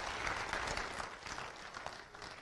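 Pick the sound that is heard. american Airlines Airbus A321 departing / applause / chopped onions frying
applause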